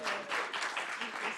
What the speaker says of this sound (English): you got a cheering crowd out there